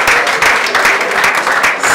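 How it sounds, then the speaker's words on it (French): An audience at a wedding in a comedy film claps loudly for the newlyweds, a dense, steady burst of applause close by with no pause for the whole stretch. "On applaudit très fort pour les mariés."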